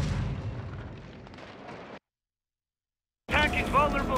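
Heavy rumbling explosions hit a tank in the video game Modern Warfare II, a loud booming blast that cuts to silence, then another dense burst of detonations with a voice mixed in.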